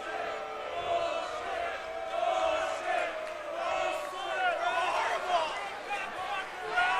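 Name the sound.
basketball arena crowd shouting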